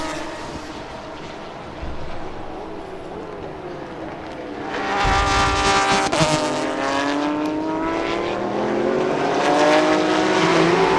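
Race cars, a Lexus and a Toyota Supra, battle on a Thailand Super Series circuit, engines droning with rising and falling harmonic whines that swell louder midway as the cars close in.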